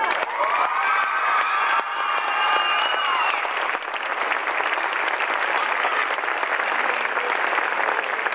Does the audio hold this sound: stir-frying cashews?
no